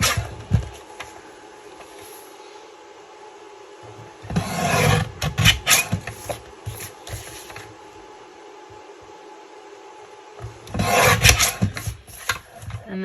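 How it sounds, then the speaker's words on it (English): Paper being trimmed to make a template, two bursts of loud rasping, scraping cuts separated by a quiet stretch, close up and with no talking. "So I'm going to continue trimming."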